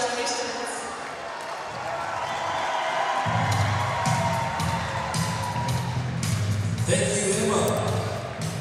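Sports arena crowd at an Atlanta Gladiators versus Greensboro Gargoyles game, a loud continuous roar of cheering and shouting with scattered whoops, rising as a dense low rumble joins partway through, close and sustained throughout.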